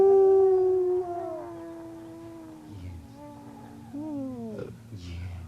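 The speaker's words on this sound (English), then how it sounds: "They'll give you a growl or a friendly howl and a sing-along." A dog howls loudly and close, a long sustained wavering note followed by several shorter rising and falling howls.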